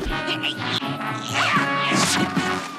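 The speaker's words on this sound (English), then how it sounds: "Dag forgets to pull his ripcord and crashes through the forest in a series of screams and thuds" Chaotic crashing and thudding as a cartoon character falls through a forest after a parachute fails to open, scattered impacts and snapping, busy and loud throughout, with brief screams mixed in.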